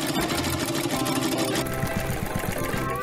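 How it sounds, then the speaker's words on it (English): Rapid mechanical stitching chatter of a sewing machine sewing a pillow from sparkling fabric in four colours, steady and close for about three seconds, with a background voice or music underneath. "Use sparkling fabric of 4 colors to sew a pillow."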